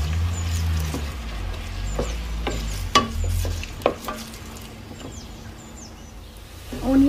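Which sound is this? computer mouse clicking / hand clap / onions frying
onions frying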